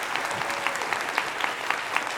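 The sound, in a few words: audience applauding in a university lecture hall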